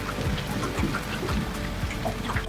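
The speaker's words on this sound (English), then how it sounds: "Still raining, don't know if you can hear that," Rain falling steadily on a boat moored off Fraser Island, with plywood boards laid across the deck, a dense even patter of close drops and brighter ticks and no voices.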